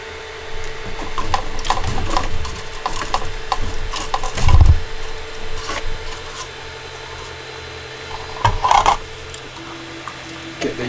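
A 3D printer pauses mid-print while its filament is ejected, giving mechanical whirring and stepper motor hum with intermittent clunks and clicks, including a louder knock near the middle and another burst later.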